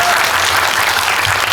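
An audience at a cinema talk event in a Megabox theater gives dense, loud, continuous applause throughout, with a faint voice underneath.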